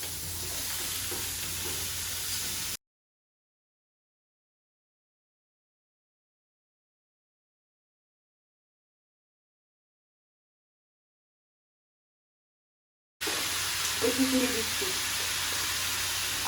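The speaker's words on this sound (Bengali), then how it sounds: "এবার অন্য সবজি কুমড়ো পটল আলু আর শাক দিয়ে দিলাম" Pumpkin, pointed gourd, potato and greens fry in a pan with a steady, soft sizzle. The sound cuts out for a long silent stretch, then the sizzling returns with a few brief stirring knocks near the end.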